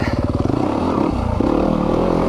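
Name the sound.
engine of a 2020 Yamaha YZ250FX dirt bike being ridden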